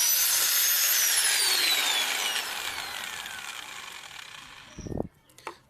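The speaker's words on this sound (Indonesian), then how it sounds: "Kemudian kita bor ya, menurut lubang yang satunya harus lurus ya" A power drill boring a hole through a PVC pipe knife handle, a steady high whine that slowly winds down, ending with a few clicks and knocks as the bit stops.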